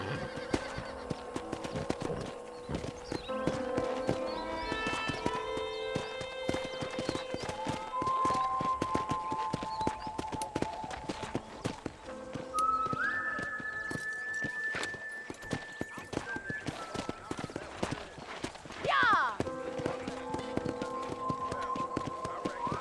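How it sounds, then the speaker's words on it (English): Horse hooves clip-clop as a rider travels in the Red Dead Redemption video game, a steady walking rhythm of hoofbeats under background music, with a brief whinny near the end. "let's see if you can still ride a horse."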